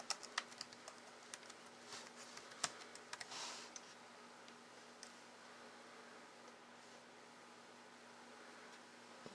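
Keys tapped on a cheap 7-inch notebook keyboard while entering a search term, quiet scattered clicks in short bursts over a steady low electrical hum, with no voices.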